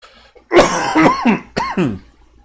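Several harsh, close coughs in quick succession, loud and raspy, with no talking around them.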